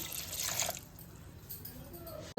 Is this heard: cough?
no